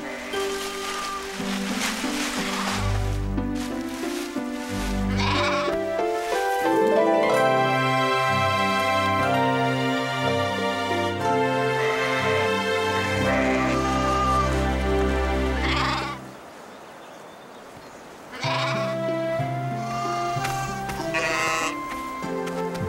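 Sheep bleating set against a steady musical backing with harmonic tones, the calls blending into the music throughout, with a brief quieter dip near the end.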